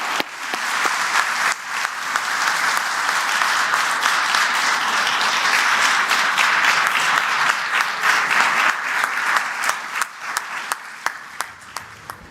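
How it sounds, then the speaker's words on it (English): An audience applauds House Speaker Kevin McCarthy at the New York Stock Exchange, with steady, dense clapping that holds for about ten seconds and then thins out toward the end. "Please join me in giving a round of applause to Speaker McCarthy."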